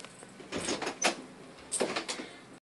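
A door slides and bumps in two short bursts of rattling movement, fairly quiet and close, with no talking.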